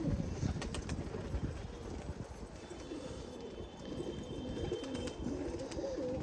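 Soft coos from two local pigeons of the same loft repeat at a moderate distance over a low, steady background hum.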